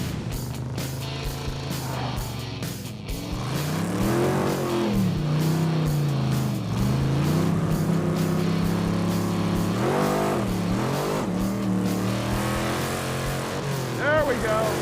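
Roadkill's Hemi-powered race truck engine accelerating hard during a race, a loud, sustained roar with rising and falling revs as it shifts, close up, with people talking over it.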